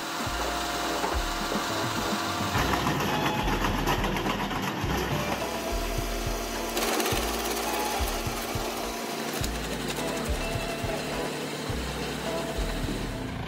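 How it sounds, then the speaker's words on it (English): A Brush Bandit 280 HD wood chipper of over 200 horsepower runs loudly and continuously while feeding wood, a dense mechanical roar with rhythmic chopping thumps throughout and no voices. "the Brush Bandit 280 HD wood chipper can handle trees up to 40 centimeters in diameter"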